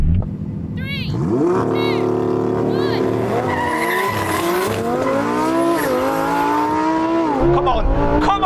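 A race car launches and accelerates hard, the engine climbing through rising revs with a gear change and tire squeal, loud and close, while voices shout over it.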